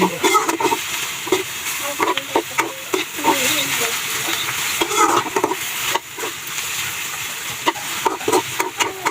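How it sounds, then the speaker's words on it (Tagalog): Bitter gourd (ampalaya) sautéing with egg in a home-kitchen pan, giving a steady sizzle with repeated scraping and stirring of a spatula, close and fairly loud throughout. "nilagyan ko na ng itlog para maisabay ko na sa ginisang ampalaya"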